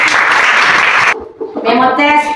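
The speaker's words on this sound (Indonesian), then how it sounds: "Beri tepuk tangan buat" A group claps after a closing prayer in an online class session. The applause runs briefly and then cuts off abruptly, followed by a voice speaking.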